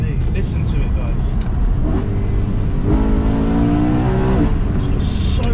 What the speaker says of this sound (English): This car, oh my days. Listen to it, guys.